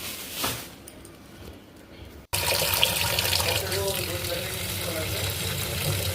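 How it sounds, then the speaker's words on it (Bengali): Leafy greens are washed in a home kitchen while tap water starts abruptly partway through and then runs as a steady, loud, close rush. Fainter handling sounds come before it starts. "আমি শাকগুলোকে বেশ কয়েকবার ভালো করে ধুয়ে নিলাম"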